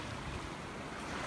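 Surf washing onto an Australian beach at Ocean Beach, NSW, where eroded trees have fallen onto the sand, comes through as a steady broadband wash of water with light wind noise, continuous and moderately distant, with no talk.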